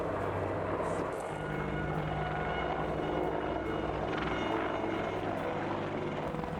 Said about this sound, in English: The twin turboshaft engines generate more than enough lift to carry heavy payloads of weapons